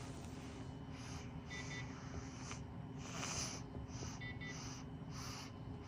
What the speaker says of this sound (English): You can hear him breathing.